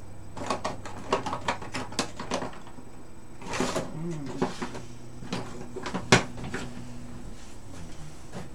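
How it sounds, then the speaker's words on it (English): Rummaging through a drawer of pottery tools during a live stream, with repeated clattering knocks and scrapes of tools being moved around, some sharper clacks, and brief voice sounds in between. "fish around in the drawer, see what sort of tools you can find."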